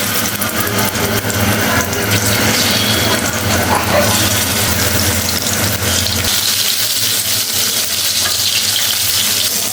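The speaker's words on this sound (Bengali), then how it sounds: "তেল গরম হয়ে গেছে, দিয়ে দেবো ইলিশ মাছগুলো।" Hilsa fish frying in hot oil in a kadai, a loud continuous hiss and sizzle that stays dense and close for the whole stretch, easing slightly toward the end.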